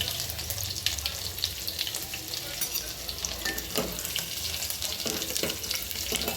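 Garlic sautéing in a hot oil tempering of mustard seeds and cumin, a loud continuous crackling sizzle with stirring scrapes close up and no talk.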